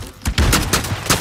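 Gunfire in a video game shooter: a quick string of loud, sharp shots, about five bursts close together in roughly a second, up front and clear.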